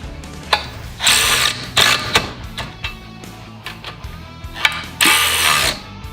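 Mounting bolts on an OPENROAD electric winch are tightened down, giving bursts of ratcheting clicks and metallic tool noise in short separate runs, loud and close, with pauses between strokes.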